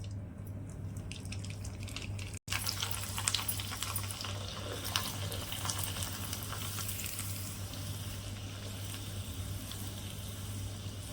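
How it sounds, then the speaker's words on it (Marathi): Dried poha kurdai crisps fry in hot oil, giving a soft continuous bubbling sizzle with light crackles, steady and fairly quiet throughout, heard alone without talking. "तिथं तेल ठेवले गरम करायला त्यामध्ये ना आपण ही ते कुरडी घालून बघूया"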